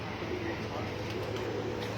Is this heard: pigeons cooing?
yes